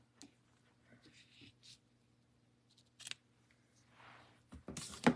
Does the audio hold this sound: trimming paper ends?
yes